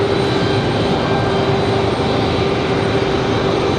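An airliner arriving from Miami at Raleigh-Durham International Airport, its engines a steady, loud broadband roar that holds evenly throughout with a faint tonal whine riding on top, no voices.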